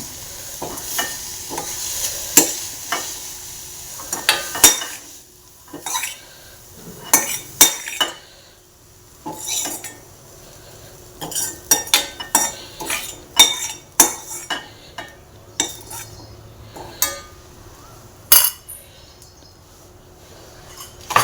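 Carrots frying for carrot payasa in a pan, with repeated sharp metal spoon scrapes and clinks against the pan in irregular bursts over a faint sizzle, close and fairly loud, no talking.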